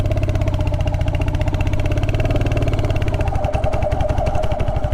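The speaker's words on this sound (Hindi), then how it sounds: "चौथे गियर पे बाइक उठ रही है ये।" A Royal Enfield Hunter 350 single-cylinder motorcycle engine pulls in fourth gear with a steady rhythmic thump, loud and close, its pulse becoming more distinct toward the end, with no talking.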